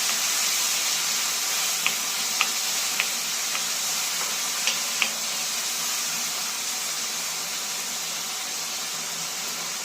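Chopped tomatoes stirred with a ladle in a hot pan give a steady, soft, hissing sizzle, with a handful of sharp ladle clicks in the first half. No one talks.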